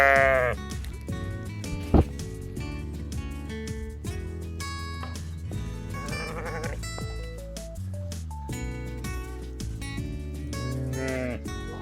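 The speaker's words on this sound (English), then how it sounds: "And she finally had some little lambs." Sheep and newborn lambs bleat loudly and close by, a mix of deeper adult calls and higher, wavering lamb cries overlapping almost continuously, with one sharp knock early on.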